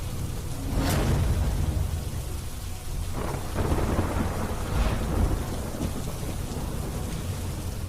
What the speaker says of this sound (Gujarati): પોરબંદરમાં ગઈકાલથી જ ધોધમાર વરસાદ પડી રહ્યો છે.